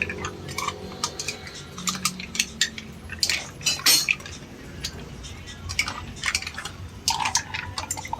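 Mussels (tahong) are stirred in a cooking pot, with a utensil clinking against the metal in irregular taps over a wet, sloshing background.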